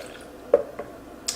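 Homemade almond milk poured from a container into a blender jug, a few short, close liquid splashes and drips within a quiet moment, with no talk.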